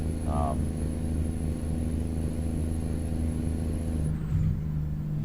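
A truck in American Truck Simulator cruises with a steady low engine drone, and a high tone runs through most of the clip before fading near the end.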